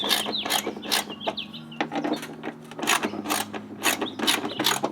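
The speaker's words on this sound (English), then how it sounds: "so that's why we're gonna go ahead and use socket wrench." Socket wrench ratcheting steadily as bolts come off the mud flaps of a third-generation Toyota Tacoma, a close, repeated series of quick clicking bursts with short pauses between strokes, no talking.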